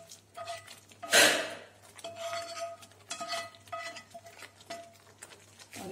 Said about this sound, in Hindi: इसे भी कढ़ाई छोड़ने तक हम मीडियम आंच पे चलाते हुए भूनेंगे